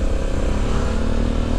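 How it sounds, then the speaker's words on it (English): Stock-exhaust engine of a 2020 Honda Africa Twin Adventure Sports DCT motorcycle, a steady close, loud throbbing drone that holds even throughout with no talk over it. "Listen to that engine."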